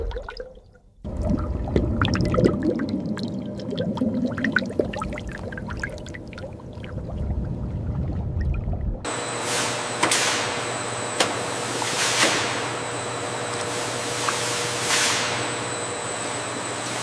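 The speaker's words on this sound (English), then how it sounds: "The apples are submerged in water, bubbling as they get thoroughly washed." Apples submerged and washed in bubbling water in a pie factory line, heard as continuous pouring, gurgling water with a steady mechanical rumble that shifts midway to a brighter, hissing churn with repeated splashing surges.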